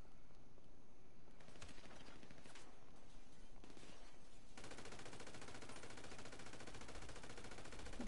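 Sustained game gunfire in GTA Online, a dense rattle of rapid shots that grows much louder and thicker halfway through and continues steadily to the end.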